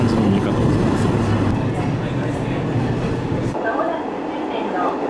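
A train runs along the coastal line toward Miyako with a steady rumble and a whooshing hiss from inside the carriage, briefly changing tone partway through.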